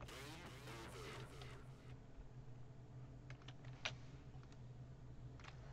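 Computer keyboard keys tapped while playing a video game, a few quiet scattered clicks over a steady droning game engine hum, faint and close, without talk.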